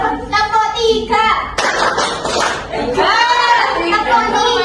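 Children in a primary school classroom game clap in counted bursts, several crisp claps mixed with loud chanting voices close by.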